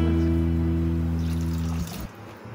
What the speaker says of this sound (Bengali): 1 কাপ পানি দিয়েছি